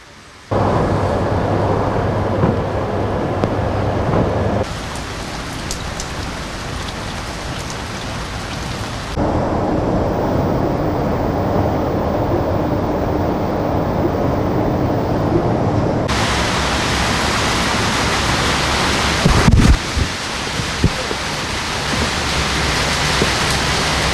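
Heavy rain pours steadily over a street market during a strong downpour, a dense continuous hiss that swells and eases in sections, with a sharp crack or thud near the end and no voices.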